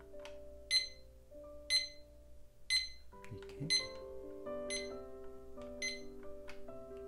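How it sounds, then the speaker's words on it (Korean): A MUJI digital alarm clock beeps in short, evenly spaced electronic chirps, about once per second, with a soft chime melody ringing underneath. "알람의 볼륨을 조정하는 것도 좋지만 미리 들어볼 수 있어서 좋습니다."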